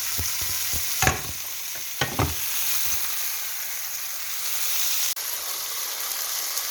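Steaks for a Philly cheesesteak sizzle steadily in a frying pan, a continuous close hiss with a few clattering bursts of stirring and pan handling near the start, no talking.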